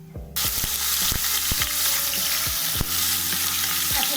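Grated onion drops into hot oil with ghee and fries with a loud, steady sizzle as a spoon stirs it, leaving a few clear scraping knocks against the pan. No voice is heard over the cooking.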